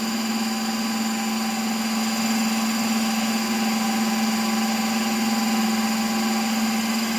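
A Ninja Creami ice cream maker mixing mint chocolate chip ice cream, a steady loud motorized whine and hum holding constant from start to finish with no voices.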